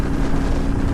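A 2019 Harley-Davidson Iron 883 cruising at 70 mph around 3750 rpm, a steady low engine drone mixed with heavy wind rush, loud and constant with no talking.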